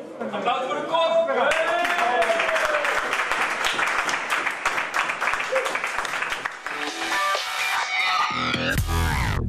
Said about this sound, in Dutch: Applaus voor de kop!